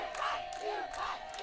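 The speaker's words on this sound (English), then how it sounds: "All the cheering in the background." A crowd cheers at a collegiate archery target championship match. The cheering and calls are soft, distant and sustained, rising and falling in a few waves over a brief span.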